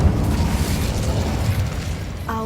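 An Incendio fire spell cast in Hogwarts Legacy, a sustained roaring, crackling whoosh of flame with a heavy low rumble, ending with a short bright tonal chime.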